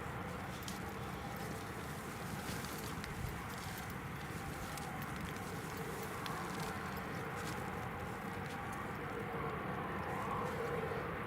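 A German Airways airliner arrives at Newcastle Airport in wet, windy storm weather, its engines a broad, continuous roar mixed with wind noise throughout.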